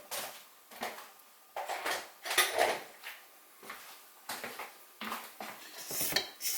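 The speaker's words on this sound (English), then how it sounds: "Gonna get a spatula and rub down the sides real well." Spatula scraping down the sides and bottom of a mixing bowl of banana muffin batter: a series of about eight close, rhythmic scrapes and knocks with short pauses between them.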